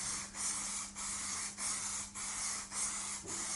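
Aerosol can of fixative sprayed onto leather in short repeated bursts from about 20 cm away, five or six close hissing sprays separated by brief pauses, with no talking.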